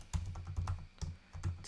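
Typing on a computer keyboard during web development coding work, heard as a few short clustered bursts of keystrokes, close and fairly quiet, with no talking.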